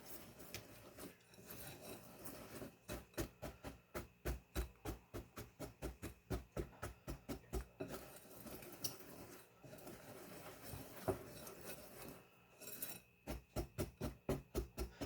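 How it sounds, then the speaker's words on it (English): A whisk beats salt, cinnamon and old, lumpy brown sugar together in a bowl, giving fast rhythmic scraping and tapping strokes in steady bursts with short pauses, close and fairly loud throughout. "So I'm just going to go ahead and whisk this stuff up."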